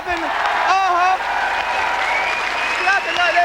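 A theatre audience at a 1993 Edinburgh comedy show claps steadily and loudly throughout, a dense wash of applause with a voice talking over it.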